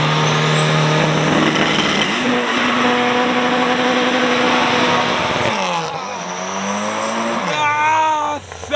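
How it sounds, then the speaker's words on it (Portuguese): Turbocharged VW Gol G3 revving hard with loud, harsh gearbox and drivetrain noise, rising whine and roaring engine sweeping up and down through shifts, close and very loud throughout. "Olha o barulhão do câmbio"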